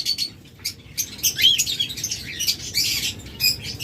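A breeding pair of olive and green Fischer's lovebirds gives bright, rapid chirps and squeaky calls that come in repeated bursts, close by and fairly loud over a low background rumble.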